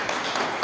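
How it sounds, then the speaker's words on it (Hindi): Audience applause at a Jain community calendar release ceremony, a short burst of steady, dense clapping from a crowd, held at an even level throughout. "तालियां हो जाएं।"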